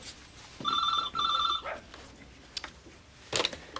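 A telephone in a veterinary practice rings with a bright, trilling electronic tone in two quick bursts. Quieter rustles and voices follow in an indoor setting.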